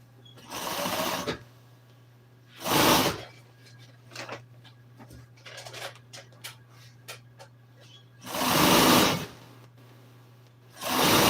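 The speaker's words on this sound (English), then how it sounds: "All I'm doing is sewing this about a 1/2 inch from the edge." A sewing machine stitches Studebaker truck seat upholstery about half an inch from the edge in short separate loud bursts, with quiet ticking and shop noise and a steady low hum between runs.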